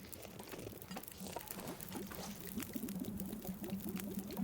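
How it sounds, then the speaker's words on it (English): Water bubbles and trickles steadily in The Long Dark, a survival game set in a frozen wilderness, a continuous watery patter that grows slightly louder toward the end with no talking. "I can hear the water bubbling away over here."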